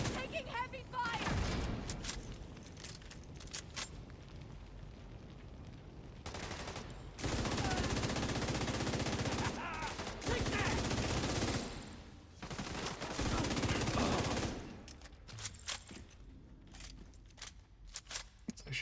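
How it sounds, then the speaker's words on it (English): Heavy bursts of video game gunfire in long, loud sustained volleys, broken by short pauses between strings of shots. "Taking heavy fire."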